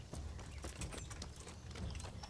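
Horse hooves clip-clop in a steady, quick rhythm in Kingdom Come: Deliverance, a dense run of sharp hoof strikes heard fairly faint and unbroken, with no talking over them.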